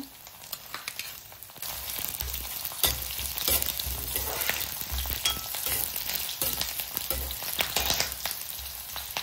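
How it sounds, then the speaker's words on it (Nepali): Garlic and ginger frying in a pan for momo achar, a steady close sizzle and crackle with occasional stirring scrapes, no voices. "भिडियोमा देखाए जस्तै लसुन र अदुवालाई पनि फ्राई गरिदिनु होला"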